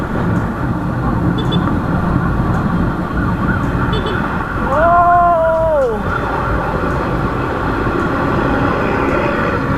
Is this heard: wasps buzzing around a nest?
no